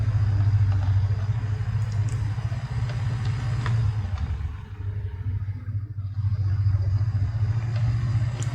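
A tractor engine in Farming Simulator 19 runs with a steady, loud low rumble throughout, dipping briefly midway before swelling again, with no talk over it.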